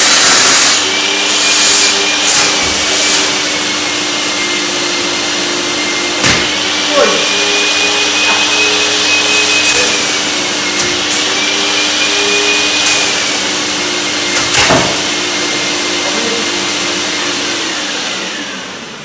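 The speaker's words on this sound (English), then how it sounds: "This has got to be the most powerful gutter vacuum system on the market." A Kiam Cyclone gutter vacuum runs loud and continuous, its motor whine holding a steady pitch and briefly dipping and recovering, with hard thumps and knocks as debris and the hose strike, a voice talking over it at times.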